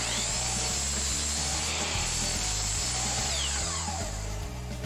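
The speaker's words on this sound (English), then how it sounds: "Trim off one end of that piece and check your cut with a reliable square." A miter saw trims the end off a piece of test stock, a loud continuous whining motor buzz with a steady cutting drone running throughout, close and unbroken.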